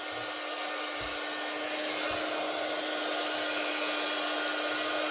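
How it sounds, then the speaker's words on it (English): A heat gun blows hot air with a constant loud whooshing hum and a steady motor tone, close by, with no talking. "I'm going to turn the heat gun on."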